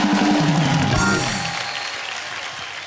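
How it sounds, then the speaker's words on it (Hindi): Studio audience applause for a comedy show's celebrity guests, a dense burst of clapping that begins loud alongside a voice and music, then fades to a softer, thinner patter toward the end. "जोरदार तालियां।"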